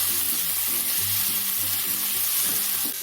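Onion and capsicum stir-fried in a pan for restaurant-style egg chilli, a loud, continuous hissing sizzle with steady stirring and scraping close by, no voices.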